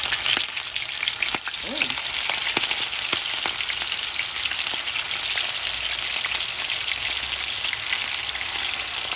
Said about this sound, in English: So I'm going to come over to the stove and I'm going to start searing them.